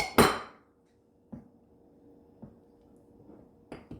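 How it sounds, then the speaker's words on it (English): A utensil stirs brown sugar, maple syrup and black pepper together in a bowl, giving a sharp clink against the bowl followed by a few sparse, quieter taps spaced out over a few seconds. "you're just going to mix this until it's well combined"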